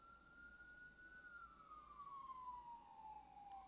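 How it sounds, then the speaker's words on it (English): A single wailing siren sweeps past outside at moderate distance, its steady tone slowly falling in pitch as it goes by over a constant background hum, with no talk. "course, here comes the siren."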